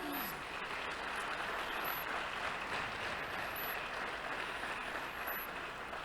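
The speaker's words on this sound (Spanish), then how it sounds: "Le damos un fuerte aplauso." Audience applause at a church meeting, a sustained, quiet and distant patter of clapping with faint voices mixed in.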